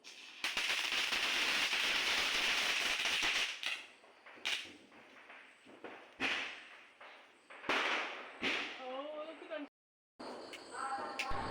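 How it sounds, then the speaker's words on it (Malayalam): A sky shot firework set off at a Vishu celebration gives a long loud hissing, crackling burst followed by several sharp bangs and cracks outdoors, with voices speaking toward the end. "ആദ്യമായിട്ടാണ് സ്കൈ ഷോട്ട് മേടിക്കുന്നത്. അപ്പോൾ ഒറ്റൊന്ന് മേടിച്ചത് പൊട്ടിക്കുകയാണ്."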